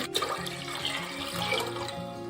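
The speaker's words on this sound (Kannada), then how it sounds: "ಒಂದು 3 ತಂಬಿಗೆ ನೀರು ಹಾಕ್ತಾ ಇದ್ದೇನೆ." About three tumblers of water pour into a pressure cooker on a gas stove for a chana and moong dal kheer, a short, steady, close gush of splashing water.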